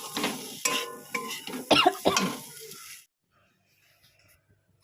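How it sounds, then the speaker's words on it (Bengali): Peas being stirred and fried with spice paste in a pan, with a few scraping clatters of a spoon against metal over about three seconds, then near silence. "এবারে মটরশুঁটি দিয়ে ভাজবো মটরশুঁটি আর মশলা দিয়ে ভাজি"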